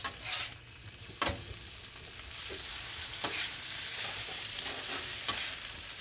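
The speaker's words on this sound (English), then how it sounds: "I'm gonna scramble up an egg and mix that into the rice." An egg is scrambled in fresh oil and stirred into chicken fried rice, a steady close sizzle with a few sharp spatula scrapes and knocks on the pan spaced through it, no talk.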